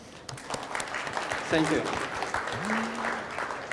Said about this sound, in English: Does he deserve a better applause?